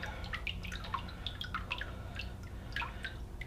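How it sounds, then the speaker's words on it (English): Water draining from wet paper pulp held in a papermaking deckle, heard as a steady patter of small drips and trickles, close and quiet with no talk. "Let the water drain."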